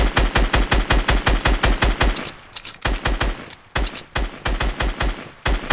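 Rapid bursts of automatic gunfire in Fortnite, loud and close, firing in quick rhythmic volleys with brief pauses between strings of shots.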